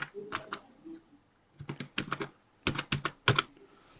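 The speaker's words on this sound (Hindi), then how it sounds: "तो यहाँ पे जो पासवर्ड मैंने बनाया है उसको मैं यहाँ पे टाइप कर लेता हूँ।" A password tapped out on a computer keyboard in several quick bursts of close, crisp keystrokes separated by brief pauses.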